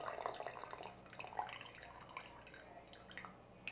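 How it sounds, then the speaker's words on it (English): Small splashes and drips as a little water is added to sifted matcha powder in a bowl, faint and close, with soft dribbling bursts that taper off. "Now we'll add our water, and just like before, less is more."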